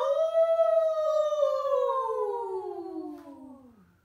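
Several voices imitate howling wind on a dark and windy night, forming one long, sustained, sliding wail that falls steadily in pitch and fades out over about four seconds.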